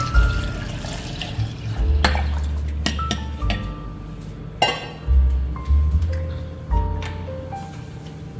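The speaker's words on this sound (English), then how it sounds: "In goes the water." Water poured into a cooking pot while preparing Caribbean curry goat, with splashing and running water broken by clinks of the pot and utensils, close and fairly loud, no voices.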